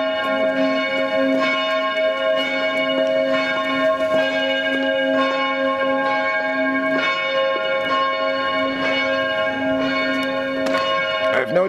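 Loud church bells in Vienna ring continuously, repeated strikes blending into a rich, sustained peal with no voices.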